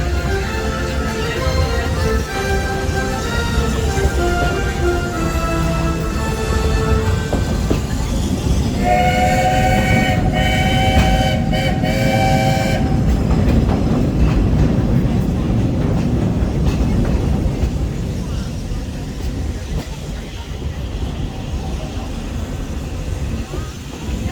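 The Walt Disney World Railroad steam train rumbles past steadily, and a loud steam whistle sounds in the middle before the train's roar slowly eases off.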